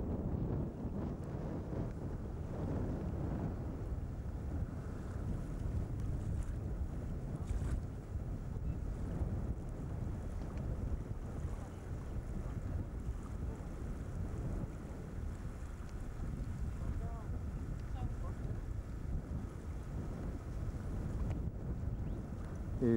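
Strong wind buffets the microphone on the Atlantic coast near Alexander Bay, South Africa, a constant low roar with surf and waves under it, steady and loud throughout with no talk.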